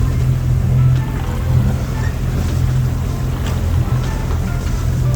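A sailboat motor sails offshore between Madeira and Lanzarote with the genoa out, a steady low engine hum running beneath constant wash of water and wind along the hull.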